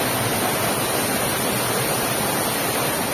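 A small roadside waterfall in Konkan gives off a continuous, even rush of falling water, loud and close, with no voices.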